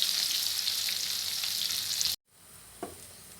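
Sliced onions and green chillies hit hot oil with cumin seeds and turmeric, giving a bright, steady, close hiss of frying that cuts off abruptly, followed by near silence and a single soft knock.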